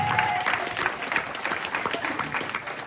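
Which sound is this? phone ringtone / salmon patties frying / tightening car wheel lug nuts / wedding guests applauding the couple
wedding guests applauding the couple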